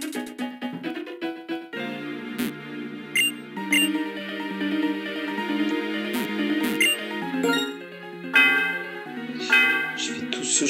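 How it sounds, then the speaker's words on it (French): Bell chimes ringing in a Pokémon Black video game, layered over upbeat game music with bright metallic tones recurring throughout. "Ce chemin pour faire sonner une cloche."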